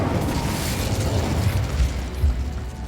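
Booming spell explosions from the video game Hogwarts Legacy, a steady rumbling barrage of low blasts and bursts that roll continuously with a few stronger thumps near the end.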